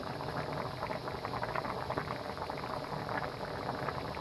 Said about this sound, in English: started adding a bit of water really, just a little bit of water just to get it.